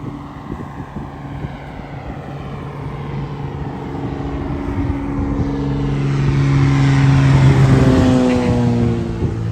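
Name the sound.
plane flying low over harbor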